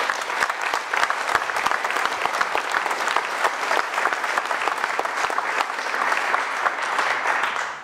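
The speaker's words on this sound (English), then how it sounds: "So round of applause for that team." A dense, steady round of audience applause at a Bitcoin wallet-design talk, many hands clapping continuously and loudly for several seconds without any voices.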